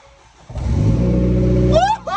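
A big-turbo Ford Fiesta ST180 engine cranks and catches at about half a second, then runs loud and rough close by for over a second before a rising rev, with voices briefly cutting in near the end.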